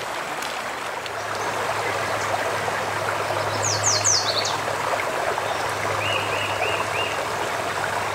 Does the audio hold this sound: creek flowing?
yes